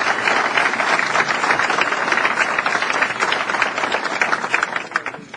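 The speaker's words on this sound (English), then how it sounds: "Let's give the mayor a round of applause for his great leadership and service." Sustained audience applause for the mayor at a Manchester GOP event, dense and even clapping from a large crowd, loud and continuous with no talk, tapering slightly at the end.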